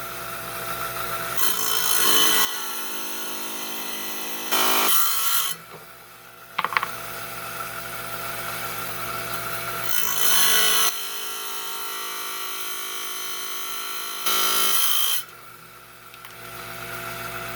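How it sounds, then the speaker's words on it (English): A 5-inch lapidary trim saw cuts through mahogany obsidian, giving a steady whining grind that swells several times into louder bursts as the blade bites the stone, with no talking. "now we've moved over to our the 5-inch trim saw. I'm going to finish trimming this piece out here."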